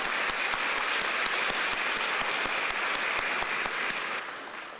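Audience applause fills a dinner banquet hall at the Taiwan–US chamber of commerce's 2023 year-end gala: dense, steady clapping that holds loud throughout and tapers slightly at the end.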